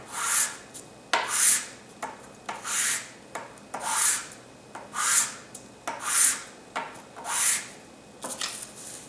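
An acrylic brush handle rubbed back and forth on sandpaper on a countertop, about ten rhythmic rasping strokes, close and clear with no talk.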